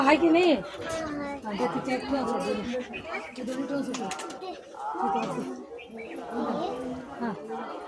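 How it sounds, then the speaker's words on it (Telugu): Pigeons or doves coo near temple steps, their soft repeated calls mixed into a busy scene with talking voices and children's sounds nearby. "పిట్టలు కూడా వచ్చి చూస్తున్నాయి"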